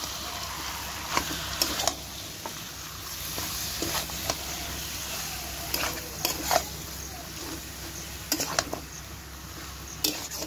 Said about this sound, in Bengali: দিয়ে ভালো করে এবার মশলার সাথে কষিয়ে নেবে, মাংসের সাথে, খাসি মাংসের সাথে মশলাটা